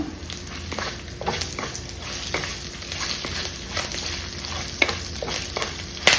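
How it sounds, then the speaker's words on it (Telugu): Curry leaves hit hot oil in a pan and sizzle steadily, with crackling pops and occasional stirring clatter close by, no one speaking. "ఇదిగోండి 2 రెమ్మల కరివేపాకు కూడా వేస్తాను."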